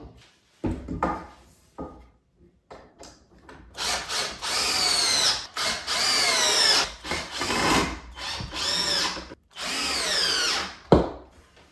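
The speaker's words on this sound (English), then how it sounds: "let me screw these onto the first post and the last post." Power drill driving screws into wooden posts for a curved model railroad backdrop: several bursts of whining, rising motor drone separated by short pauses, close and loud, with quieter handling knocks between runs.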